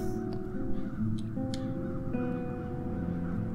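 Crows caw in the video game Das Schwarze Auge: Satinavs Ketten, harsh calls repeating over a dense outdoor ambience with a low background hum.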